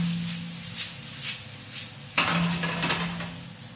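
A pan of linguine puttanesca with herbs is shaken on the stove, metal clattering and scraping in several bursts, with a louder rattling jolt partway through over a low kitchen hum.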